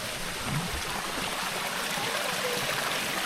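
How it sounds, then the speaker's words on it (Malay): Mountain spring water at Gua Kambing on Gunung Berembun flows and trickles in a constant gurgling stream, close by and unbroken, with no voices. "Ni air mata air dia."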